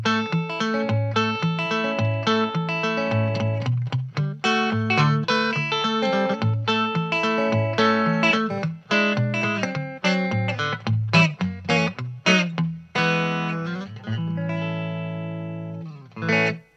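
Electric guitar played through a Soundsation Quark 45 valve amplifier with a small 10-inch speaker cabinet, a bright, crunchy overdriven tone; loud strummed chords and riffs with sharp stops, ending on a ringing sustained chord, no talking.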